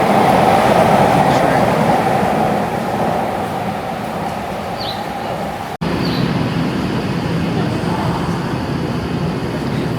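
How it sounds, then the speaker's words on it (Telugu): A metro train arrives at a Tokyo station, with a loud, steady rumbling roar of the train and platform noise that eases slightly midway and then continues; voices can be heard faintly under the noise. "సో మనము ట్రైన్ వచ్చిందనమాట, వెళ్తున్నాము."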